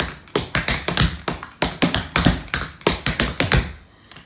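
Faster tap dance time steps in tap shoes on a hard floor, quick crisp clicks and heel drops packed into tight repeating groups, close up and without talking.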